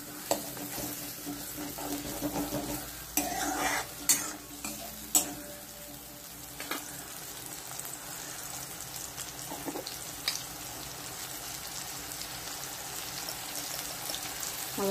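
Masala paste for a spicy quail curry sizzles and fries in a pan while a spoon stirs it, with soft scraping and clinks over a steady quiet hiss and a few sharper knocks early on.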